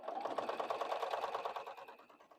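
A sewing machine stitches a quarter-inch seam along one long side of fabric, giving a steady, fast mechanical chatter of needle strokes that runs evenly and close up throughout, with no talking.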